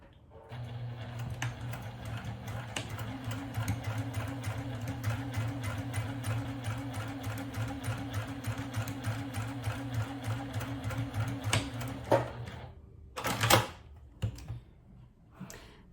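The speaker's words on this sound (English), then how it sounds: "in the sewing machine we're going to sew a 1/4 inch." A sewing machine stitches fabric steadily for about twelve seconds, its rapid needle rhythm humming close up, then stops, followed by a few brief clatters.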